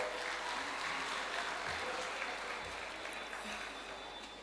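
Sustained applause from an audience at a school annual day function in Diva, steady and dense throughout at moderate level, tapering slightly toward the end with no voices over it.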